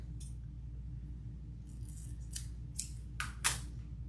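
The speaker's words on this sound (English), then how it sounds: "the first thing I like to do is cut the tag off the back" Scissors snipping the tag off the back of a wired snowman wreath decoration: a handful of short, crisp metallic cuts, close and distinct, bunched in the second half over a quiet background hum.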